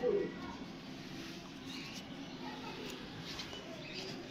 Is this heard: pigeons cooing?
yes